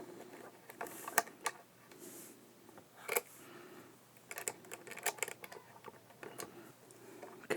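Screws are driven into the bridge plate of a 1983 Japanese-made Squier Bullet guitar, producing quiet, irregular ticking and clicking from metal and the screwdriver, close and faint, in scattered bursts.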